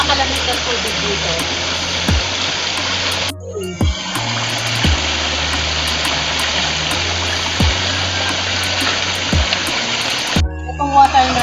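Cold spring water gushes through an improvised PVC pipe, a loud continuous rush close by with a steady low hum beneath it and sharp ticks recurring every second or so.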